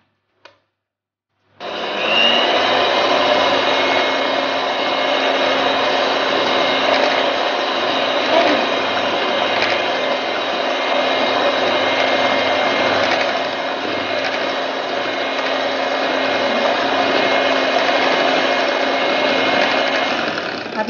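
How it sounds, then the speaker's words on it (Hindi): An electric mixer beats a mango ice cream mixture on low speed, giving a steady, loud mechanical whir with a gear-like rattle that runs unbroken for about twenty seconds after a brief start. "और इसे हमें 2 मिनट के लिए लो मोशन पर बीट करना है"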